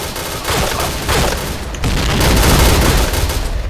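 Dense, continuous volleys of gunfire from a video game shooter, loud and close, with rapid overlapping shots and booming bursts throughout and no talking.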